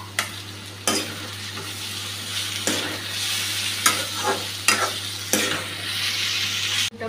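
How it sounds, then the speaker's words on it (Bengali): Onion and green chilli frying in a pan, a steady close sizzle broken by several sharp scraping stirs of the spatula at irregular intervals. "এখন পেঁয়াজ কাঁচা লঙ্কাটা দিয়ে দিলাম।"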